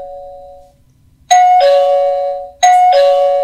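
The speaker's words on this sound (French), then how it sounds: "On pourra re-régler aussi le volume de la sonnerie et également ajouter une sonnerie personnalisée." An Aqara G4 video doorbell chime at full volume rings out twice, loud and close, each ding-dong ringing on and decaying with no voices.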